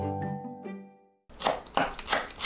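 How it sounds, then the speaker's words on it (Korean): Green onions being finely chopped on a cutting board, a few sharp knife strikes in quick succession after a brief quiet pause, close and clear with no talking. "파를 작게 썰어주세요."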